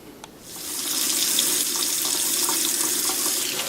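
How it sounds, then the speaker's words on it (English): Cold tap water runs steadily into a sink as salmon fillets are rinsed beneath it, a loud continuous splashing rush that starts after a short quiet moment. "wash off the salmon really well in cold water"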